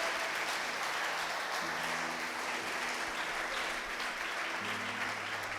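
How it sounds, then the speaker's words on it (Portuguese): Worshippers at a Portuguese-language church service applauding the Lord, a continuous dense wash of clapping from a large congregation, steady and fairly loud throughout, with a sustained organ or keyboard tone underneath. "Agora você pode aplaudir o Senhor."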